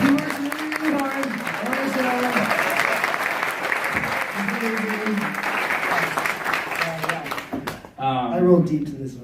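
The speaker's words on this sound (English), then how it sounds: "Everyone give me a clap." Applause from a convention audience at a FlameCon panel, steady clapping underneath voices that talk across it, then a speaker comes in clearly at the end.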